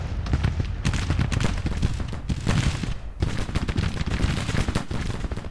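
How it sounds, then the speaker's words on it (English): Civil War battle in Grand Tactician: continuous rattling musket volleys mixed with heavier artillery booms, dense and steady, with distant crackle throughout and no talk. "Artillery is opening up on the enemy."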